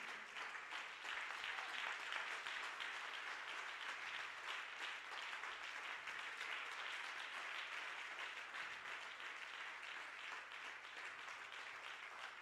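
A church congregation standing to acclaim the Lord breaks into sustained applause, a dense, even wash of many hands clapping that holds steady and fairly faint throughout.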